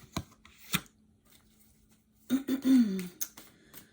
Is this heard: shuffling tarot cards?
yes